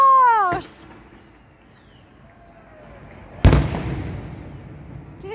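New Year fireworks exploding outdoors, a single sharp loud boom with a rumbling tail. Earlier a rising whistle or meow-like squeal is heard, and faint background sounds follow.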